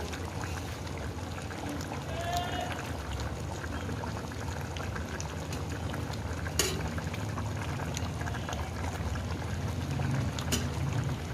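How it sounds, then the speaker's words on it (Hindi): Half a cup of cooking oil is poured into a pot of tender cooked beef being dried and fried for street-style beef bong, a steady liquid rush and sizzle running throughout with faint clatter. "इसमें अब मैं हाफ कप ऑयल डालूंगी।"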